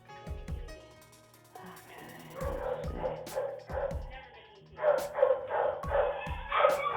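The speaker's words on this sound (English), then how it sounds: "That's a few dogs barking in the background." Several dogs bark in the background at a pet store, yips and woofs heard over a phone line in bursts throughout, with people talking over them.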